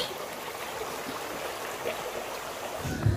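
River stream flowing beside a small village prayer hut amid rice fields in Sumedang, a steady soft rushing of water, faint and continuous, with a brief louder rumble near the end.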